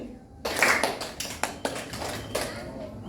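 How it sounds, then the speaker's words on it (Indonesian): Several sharp hand claps in a classroom coaching exercise, about four to five distinct claps spaced roughly every half second, fairly close and crisp with a faint room tail. "Tepuk 4 kali."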